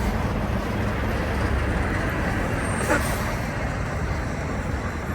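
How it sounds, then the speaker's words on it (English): A big truck passes on the road as a loud, broad rumble of traffic that holds steady throughout, with a faint swell near the middle. "There's that big ass truck."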